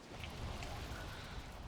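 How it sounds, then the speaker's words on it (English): A dense, roaring rainstorm in Valheim fills the scene, with continuous rain and gusting wind under no talk, loud and unbroken for its short length. "It's a hell of a storm here."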